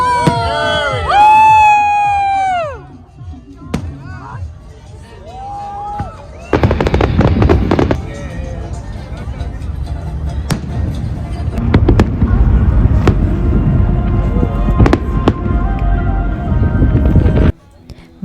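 Whistling rockets rise and squeal, then crackling bursts and sharp bangs of fireworks go off repeatedly over the water at Mazatlán, Mexico, heard from a boat, with a crowd cheering and voices underneath.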